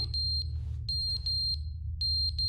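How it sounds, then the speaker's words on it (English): An alarm beeps in The Stanley Parable as sharp, high electronic pips in quick clusters with short gaps between them. A low droning hum sits underneath. "It's the alarm."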